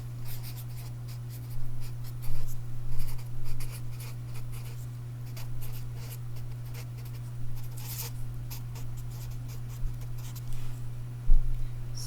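A marker or chalk draws a graph of a region on a classroom board, with short scratchy strokes in irregular bursts over a steady background hum and no speech.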